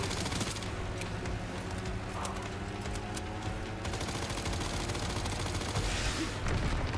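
Rapid automatic gunfire in the video game Resident Evil Requiem, set at the Raccoon City Police Department, rattles in dense, continuous bursts for several seconds, loud and close with mechanical clicks mixed in.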